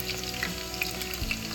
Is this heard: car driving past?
no